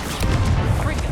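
Stupefy stunning spell fired during combat in Hogwarts Legacy, a dense booming burst of magical impact with rumbling low end and crackling noise, loud and continuous for about a second.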